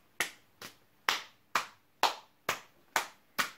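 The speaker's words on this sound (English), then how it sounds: "So you clap and then you pat your legs." Eight sharp percussive beats in a steady, even rhythm, alternating hand claps and pats on the legs, close and clear with no talking.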